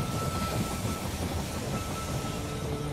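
In the strategy game They Are Billions, a train arriving at a station produces a continuous, fairly loud rumbling roar with a steady mechanical rattle throughout.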